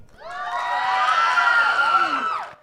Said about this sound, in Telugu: ఒక్కసారి గట్టిగా చప్పట్లు.